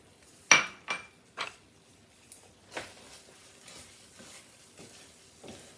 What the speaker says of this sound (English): I'm gonna put my shallots in it because we want the shallots to cook